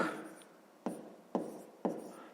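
Numbers are handwritten during a fifth-grade math exercise: a soft scratchy stroke, then three crisp taps or short strokes at an even pace, close and quiet with no talking.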